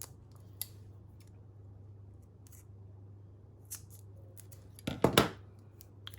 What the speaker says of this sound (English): So I'm just going to cut this in half, if I can find my scissors.